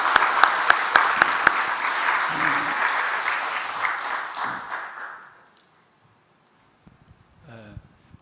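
A church congregation at an early-morning service breaks into loud, dense applause that holds for several seconds, then fades to silence before a brief sound at the end.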